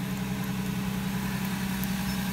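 A 2015 Toyota Tacoma engine idles steadily after a Viper remote start, a constant low hum with a smooth, unchanging drone and no speech.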